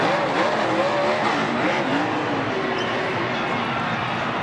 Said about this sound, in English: That's a very nice burnout.